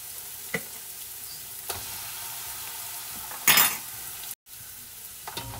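Minced garlic sizzles in a pan, giving a steady close frying hiss with a few soft stirring taps, a brief louder burst of crackle midway and a sudden short dropout, no talking.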